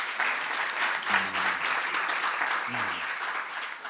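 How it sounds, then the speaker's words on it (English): An audience applauds the director of a Black History Month program in South Africa, a steady, dense wash of clapping throughout, with a few faint voices murmuring briefly underneath. "Let's give him a round of applause"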